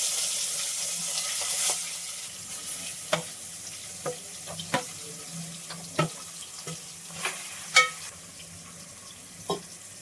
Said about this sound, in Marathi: आता यात मी मसाला लावलेले बांगडे सोडते.